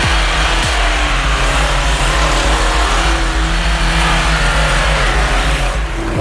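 BMW off-road vehicle laboring up a steep climb, its engine droning loud and steady under heavy strain with a sustained rough hum throughout, close to the microphone.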